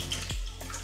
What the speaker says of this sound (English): And I always tell Paisley the biggest and easiest way to get the bubbles out is to lean her head back in a stream of water